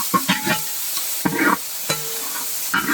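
Onions fry in a pan with garlic paste just added, stirred in short scraping bursts over a steady background sizzle, with no voices.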